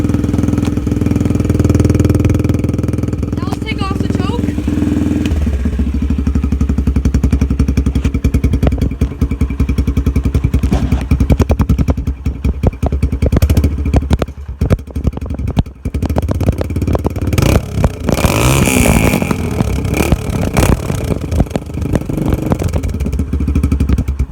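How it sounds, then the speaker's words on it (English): A 4-stroke dirt bike engine with its spark arrestor removed runs loud and unmuffled, idling with a deep, uneven rumble, then revving in bursts with clattering and popping before settling again. "How to take off the spark arrestor and make your bike nice and loud"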